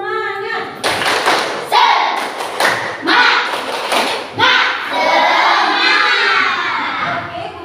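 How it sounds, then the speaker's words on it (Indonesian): A classroom group performs the 'tepuk semangat' spirit clapping routine, loud rhythmic bursts of claps and thumps in short patterned groups, with children's voices shouting along between the beats. "Tepuk semangat"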